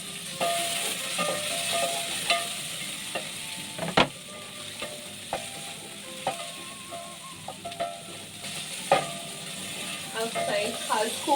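Onion and turmeric sizzle and fry in hot oil in a pan while a spoon scrapes and stirs with sharp clinks, cooking for Kenyan traditional mashed potatoes; a voice talks intermittently over the frying.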